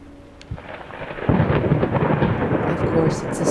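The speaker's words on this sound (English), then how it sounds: "Of course, it's a stormy night." A stormy night in the video game Layers of Fear: rolling thunder builds into a loud, sustained rumble over steady rain, with a few scattered sharper cracks and no talk.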